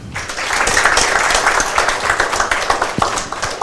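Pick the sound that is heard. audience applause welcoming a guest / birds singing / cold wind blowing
audience applause welcoming a guest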